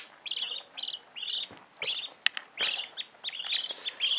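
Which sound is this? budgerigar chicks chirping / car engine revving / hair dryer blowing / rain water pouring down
budgerigar chicks chirping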